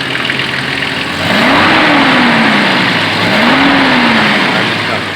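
A car engine idles and is then revved twice, the pitch rising and falling each time. It is loud and close, with no talking.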